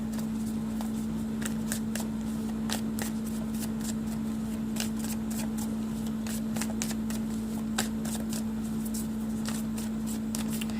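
Tarot cards are drawn and shuffled up close, making quick crisp riffling ticks in irregular bursts over a constant low electrical hum.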